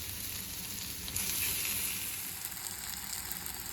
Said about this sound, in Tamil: இப்போ வெங்காயம் தக்காளி ரெண்டுமே நல்லா வதங்கிடுச்சு